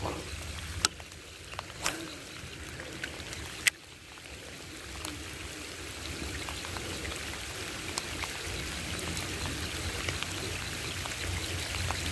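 Steady rain patters over a broad hiss, with a few sharper drops or knocks early on, continuous and moderately close throughout.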